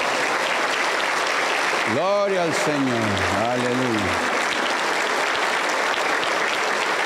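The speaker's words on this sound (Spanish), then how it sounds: "Fuerte aplauso para el Señor Jesús." A church congregation at a healing and miracles service applauds continuously and loudly, while a voice calls out praise over the clapping midway through.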